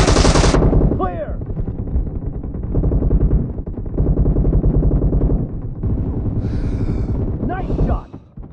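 Rapid automatic gunfire in PUBG Mobile team deathmatch, loud and close, with sustained bursts of shots and brief pauses between volleys, alone without talk.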